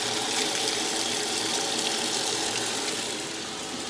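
Water steadily running into a washing machine during the rinse cycle, with fabric softener being diluted under the stream; a constant, loud, broadband rush that does not break up over several seconds.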